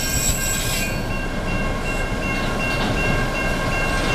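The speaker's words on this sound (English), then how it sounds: "Wow, that's a long train." A long train rumbles past close by on Swan Creek Road in Newport, Michigan, with wheels clattering and squealing along the rails. The sound stays loud and steady throughout, with no voices.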